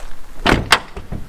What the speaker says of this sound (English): swing your legs in, and close the door